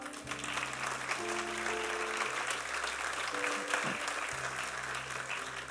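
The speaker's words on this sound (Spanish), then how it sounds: "Denle un aplauso al Señor." A church congregation applauds during a Spanish-language sermon, steady sustained clapping heard at a distance, fairly faint and continuous, under a sustained organ or keyboard chord.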